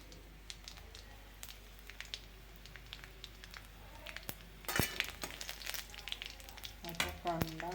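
Curry leaves crackle and sizzle in hot oil for a ridge gourd dish, a steady fry with a louder burst of spitting partway through and a brief voice near the end.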